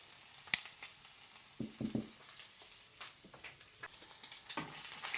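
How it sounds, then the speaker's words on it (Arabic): Chicken pieces fry in a hot pan with soft, crackling sizzles and scattered pops, a faint, close cooking sound with occasional stirring clatter and no talk. "ومن بعد ما سخنات المقله ديالتي غادي نهبط بالدجاج هو الاول، غنقليوه مزيان"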